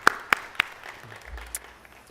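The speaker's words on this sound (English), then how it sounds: "that in of itself deserves a big round of applause." Sparse applause in a city council chamber, a few distinct loud claps near the start, then faint scattered clapping and low room noise.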